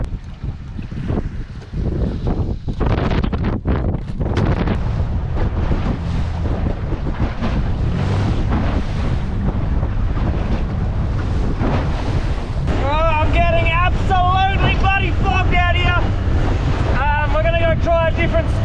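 Strong wind of about 25 knots buffets the microphone on a Perth shoreline, a continuous loud roar with gusty surges, and a voice talks over it in the second half.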